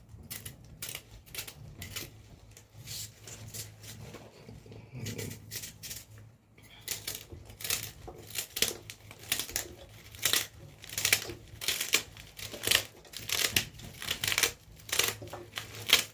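A knife chops vegetables for a Jamaican vegetable pot, a long run of crisp, irregular cutting taps and crunches close by, growing busier and louder toward the end.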